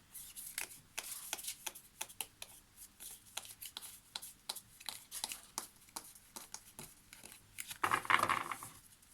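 Tarot cards are handled and put back in order: quick papery flicks, taps and slides, close and fairly soft, coming in an irregular run, with a brief louder rustle of shuffling near the end.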